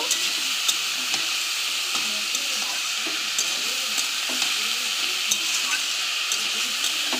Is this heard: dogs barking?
no